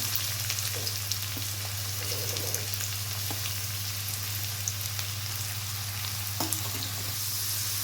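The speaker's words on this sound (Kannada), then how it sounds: "ಈರುಳ್ಳಿ ಹಾಕ್ತಾಯಿದ್ದೀನಿ ಫಸ್ಟಿಗೆ" Onions sizzle steadily in about ten spoons of hot oil as the base for an egg bhurji with greens, a dense continuous frying hiss with scattered small crackles, close and alone with no talking.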